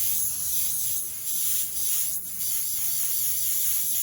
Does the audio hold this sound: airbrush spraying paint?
yes